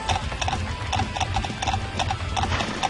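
Horse hooves clip-clop in Skyrim in a quick, steady gallop rhythm, close and loud. A faint mechanical rattle sits underneath.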